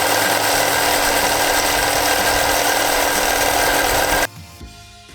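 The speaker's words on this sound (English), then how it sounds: "I've switched the belt sander out to a used 100 grit because that should be a lot less abrasive on this plastic" A belt sander fitted with a used 100 grit belt grinds facets into plastic on a DIY wand, a loud continuous motor whine with abrasive rasp that cuts off abruptly near the end, leaving quiet shuffling.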